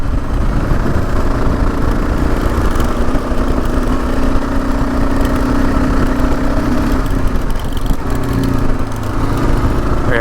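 The engine of a Gen 3 Kawasaki KLR motorcycle drones loud and steady up close while the bike rides through sand toward a small hill, with a constant rumble and slight shifts in pitch throughout.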